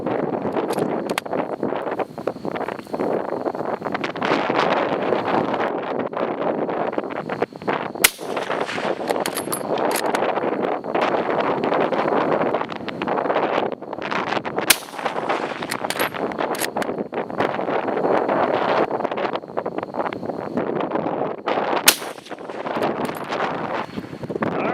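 Strong wind buffets the microphone at an outdoor rifle range, a steady roaring rush with gusty swells, broken by a few sharp distant cracks.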